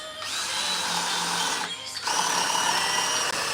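A power drill drives a screw into a gate in a workshop, its motor whining steadily and close, with a brief pause before it spins up again.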